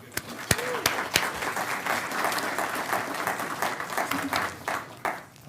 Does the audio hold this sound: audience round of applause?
yes